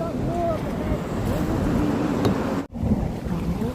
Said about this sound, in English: It's getting hecka choppy out here.